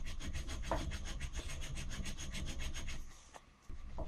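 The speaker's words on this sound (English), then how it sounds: "Try and keep the file as flat as you can." A hand file rasps over body filler on an aluminium lamp arm in close, regular back-and-forth strokes, each stroke a gritty scrape, pausing briefly near the end before resuming.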